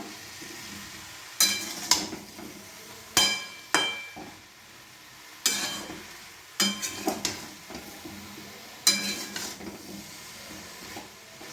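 A spoon scrapes and knocks in a pan of pumpkin and soya curry, several short separate stirring strokes over a faint low sizzle, close and fairly quiet.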